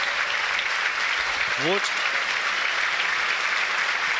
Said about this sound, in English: A minute's applause around the ground